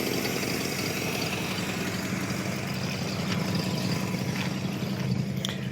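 A 1963 Ford Falcon engine idling steadily with a low, even rumble and faint ticking, close by and continuous with no one talking.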